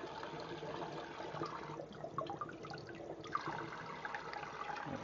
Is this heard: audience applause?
no